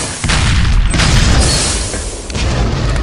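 Loud, sustained rumbling blasts from grenade explosions in a competitive multiplayer video game match, a dense continuous roar with overlapping bursts and no pauses.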